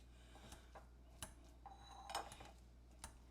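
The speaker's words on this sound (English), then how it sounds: "to cut our eggs, I'm just going to use my Pampered Chef pastry blender." A Pampered Chef pastry blender chops boiled eggs in a bowl, giving faint, sparse metallic clinks and taps against the dish, a few sharp strikes spaced apart in a quiet room.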